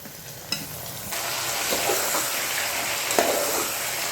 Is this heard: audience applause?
no